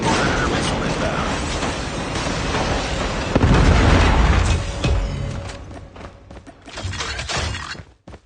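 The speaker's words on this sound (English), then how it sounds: "Predator missile inbound." A Predator missile strike in a Call of Duty game lands as a loud booming blast with shattering debris midway, followed by fading rumble and scattered crackles, with game voice announcements around it.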